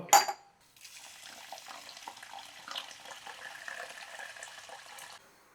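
About three-quarters of a cup of Sona Masuri rice being rinsed clean in water, a sharp splash at the start followed by a steady soft swishing of water and grains, close by and fairly quiet.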